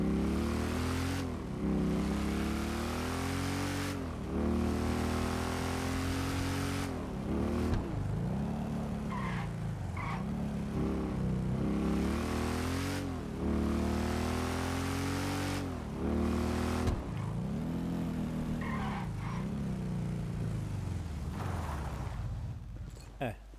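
A motorcycle engine in the GTA video game revs again and again, its pitch sweeping up and down in loud, continuous waves that run unbroken for over twenty seconds.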